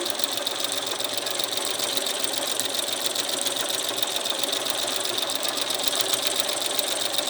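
A sewing machine stitches through a quilted bag in one steady, continuous run, its fast mechanical whir and chatter holding level and close throughout with no pauses or talk.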